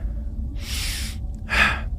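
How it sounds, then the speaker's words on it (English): A single demonstration of inhale-biased breathing: a quick, forceful sniffing inhale followed by a shorter exhale, then another sharp breath, close and clear with no talking. "So an example of inhale biased breath work would be,"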